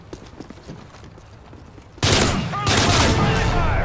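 Automated sentry gun firing in Modern Warfare 3 Survival mode, a sudden loud burst of sustained rapid gunfire that starts midway after quieter scattered shots and continues densely to the end.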